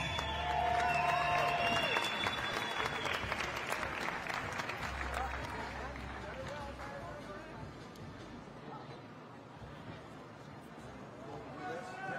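A crowd applauds at the CrossFit Games awards ceremony for the men's 45 to 49 division. The clapping is loud and dense at first, then gradually thins and fades, with some chatter from the crowd mixed in.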